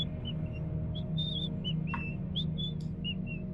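Short, bright whistled notes, a tune-like string of chirpy pitches over a steady low hum of background noise.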